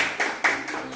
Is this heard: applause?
yes